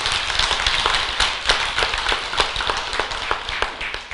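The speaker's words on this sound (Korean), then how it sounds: "그 스님들께 감사한 마음으로 우리 박수 한번 보내주세요." A Buddhist temple congregation at a Sunday family service claps in thanks for monks: a lively round of applause from many hands, close and fairly loud, with distinct sharp claps popping out of the steady patter.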